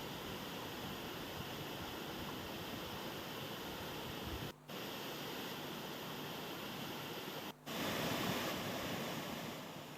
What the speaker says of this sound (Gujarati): સુણસરનો ધોધ વહેવાનું શરૂ થતાં જ સ્થાનિક ઉપરાંત બહારથી લોકો ધોધ જોવા માટે ઉમટ્યા હતા